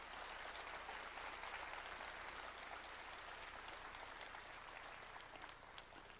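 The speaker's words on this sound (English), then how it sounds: "Big round of applause, please." Steady, dense applause from a conference audience fills the room at a moderate distance, holding evenly for several seconds with no voices over it.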